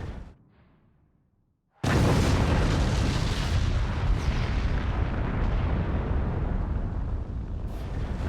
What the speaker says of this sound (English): Teammate coming in with the large cannon to finish it off.